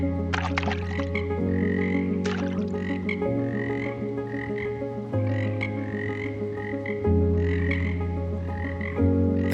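Marsh frogs (Pelophylax ridibundus) croak in a loud, continuous chorus of overlapping droning calls and rattling bursts, close by and without any voices.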